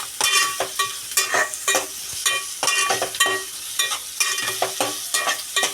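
Chopped onion fries in hot oil in a pan for a simple chavli (black-eyed bean pod) vegetable, with a steady close sizzle broken by repeated scraping stirs of a spatula, and no talking.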